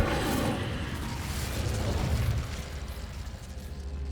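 The Incendio fire spell in Hogwarts Legacy: a rushing, roaring burst of flame that swells over a couple of seconds against a low rumble, then fades into a steadier crackling hiss.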